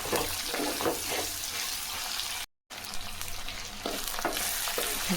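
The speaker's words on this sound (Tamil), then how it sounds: "நல்லா கறிவேப்பிலை கொத்தமல்லி நல்லா வதங்கிச்சுங்க" Curry leaves and coriander sautéing in a pan for mint pickle, a steady close sizzle with soft stirring scrapes, briefly cutting out midway before the frying hiss resumes.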